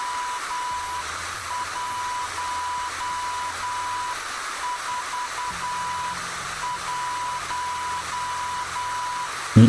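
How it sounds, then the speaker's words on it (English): Morse code in the video game Chinatown Detective Agency: a steady single-pitched tone pulses in short and long beeps, clear and continuous over a faint background hiss. "It's Morse code."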